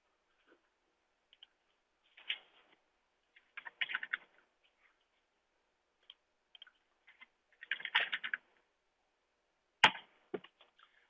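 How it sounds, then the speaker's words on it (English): Clustered bursts of key presses on a computer keyboard while entering a username and password, irregular quick tapping in short groups separated by pauses, close and fairly quiet, ending with a sharper click. "I'm now going to sign in with my username and password"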